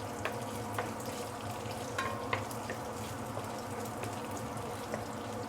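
Pork fat renders and fries in a wok, a quiet steady sizzle with occasional faint pops and scraping stirs, no voices over it.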